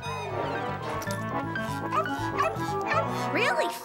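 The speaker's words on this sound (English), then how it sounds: "Really, Fang, it's just a poodle." A poodle barks in a cartoon, sharp yips and whimpering yaps rising over a busy mix of cartoon voices and a music score.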